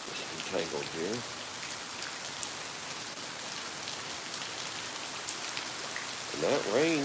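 Steady rain falls and patters on surfaces in a continuous hiss throughout. Someone speaks briefly near the start and again at the end.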